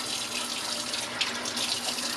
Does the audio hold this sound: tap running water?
yes